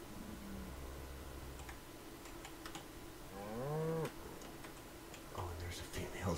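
A tamed cow in the survival game Atlas gives a drawn-out moo of rising and falling pitch, sounding close and clear over constant ambient game noise and faint ticking clicks.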